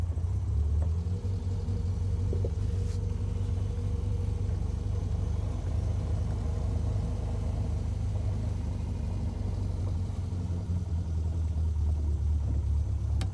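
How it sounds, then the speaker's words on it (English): A Bugeye Sprite's newly rebuilt 1275 engine drones through its twin-tip muffler while driving, a steady, loud, low rumble that holds evenly throughout with no talking. "that's also our twin tip muffler making some really nice noise"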